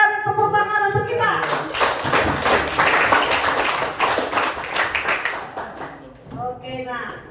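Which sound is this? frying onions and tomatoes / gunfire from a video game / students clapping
students clapping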